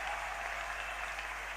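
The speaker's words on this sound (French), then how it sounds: "Est-ce que tu peux acclamer encore plus fort?" A church congregation applauds in a sustained, even wash of clapping, steady and fairly close throughout, under a low constant hum.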